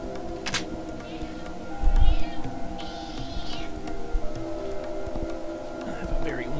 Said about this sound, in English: I have a very whiny cat I want to put in my lap